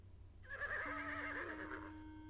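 A startled black horse in the King's Quest 6 video game lets out a single clear, high whinny that wavers and then trails off, standing alone over a quiet low background.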